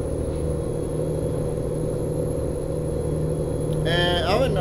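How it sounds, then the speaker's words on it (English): A Freightliner Argosy truck in American Truck Simulator drones along with a steady engine rumble and road hum, and a brief rising, warbling tone joins near the end. "I'm driving a Freightliner, Argosy."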